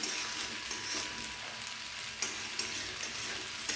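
Moong dal frying in oil in a pan for a Thursday Mahalakshmi offering: a steady close sizzle with faint crackle, broken by occasional stirring scrapes, no voices.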